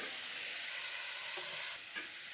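Tomatoes frying with coriander and cumin in a pan for a Bengali cauliflower and fish curry, giving a steady close sizzle with a brief stirring scrape near the end.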